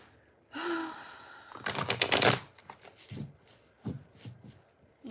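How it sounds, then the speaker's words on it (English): Deck of cards being shuffled, a dense riffling burst followed by softer sporadic card flicks and taps, close and fairly quiet, with a brief breathy gasp before. "Give the deck a shuffle."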